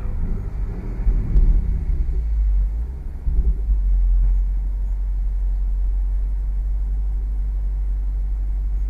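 A Ford Mustang's engine rumbles low and close as the car accelerates and its wheels lose traction in snow, with a rougher surge early on before it settles into a steady deep drone.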